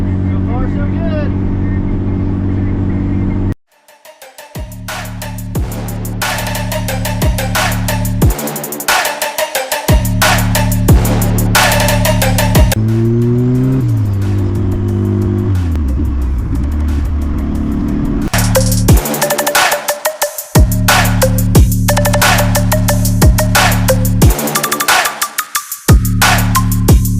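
A turbocharged LS-powered Honda Integra running on E85 drives along with a steady, loud engine drone that swells and falls through revs and gear changes, cutting out briefly twice before resuming.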